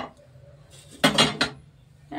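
Metal cooking pan set down on a stovetop: a couple of sharp clanks and clinks close by, with a quieter clatter before and after.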